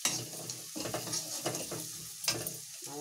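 Turmeric is stirred into spices frying in a pan: a soft, close sizzle broken by short scraping strokes of the spoon at an uneven pace.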